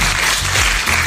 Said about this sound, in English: give this man a round of applause right here